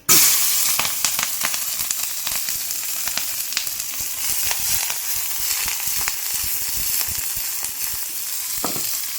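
Green chillies and curry leaves fry in hot, smoking coconut oil, crackling and popping densely over a constant bright sizzle, loud and close throughout.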